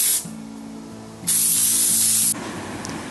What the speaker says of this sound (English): so Corey sprayed a base